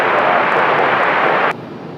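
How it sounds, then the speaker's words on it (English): Delta Airbus A220-300 jet departing Raleigh-Durham for Boston, a loud, broad, steady engine roar that cuts off abruptly to a quieter hum. "Delta 1075 off to Boston on A220-300."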